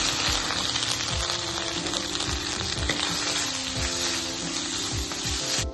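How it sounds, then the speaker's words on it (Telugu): Freshly grated coconut sizzles steadily in hot ghee in a pan for beetroot rava laddu, a loud, continuous frying hiss with a rhythmic scrape of a spoon stirring about once a second. "ఇప్పుడు ఇదే నెయ్యిలో ఇంకొక స్పూన్ నెయ్యి వేసుకొని పచ్చి కొబ్బరి వేయించేసుకోవాలి."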